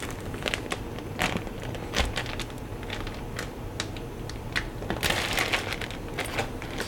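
A zipper on a wet Space Bag To Go travel bag being pulled open, heard as close, crinkly plastic rustling with bursts of scratchy clicks and crackles.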